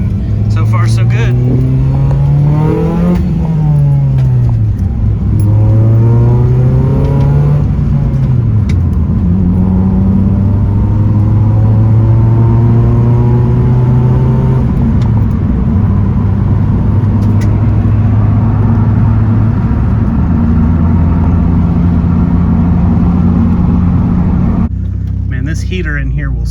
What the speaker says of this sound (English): I'm just doing a test drive just to make sure everything's good before you come and get it